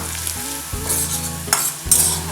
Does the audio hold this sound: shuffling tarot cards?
no